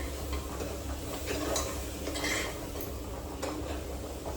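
A ground spice paste is stirred in a pot, giving a steady soft scraping and faint sizzle with occasional light clinks of a spoon against metal, close and fairly quiet, with no talking.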